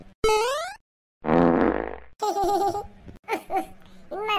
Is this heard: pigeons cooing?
no